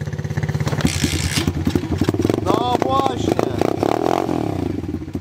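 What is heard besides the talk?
motorcycle engine started and revved off-road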